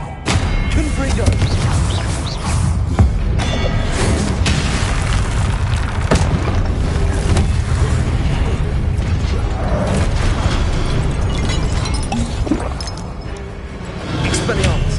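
Continuous heavy booms and blasts from the Confringo explosion spell in the wizarding game Hogwarts Legacy, a dense, loud wall of thuds, rumbles and crackling impacts with no pauses.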